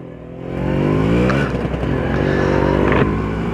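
Suzuki RC 100 Bravo two-stroke motorcycle revving on a night test ride, a loud close engine climbing in pitch and holding at high revs with the throttle blipped, no talking.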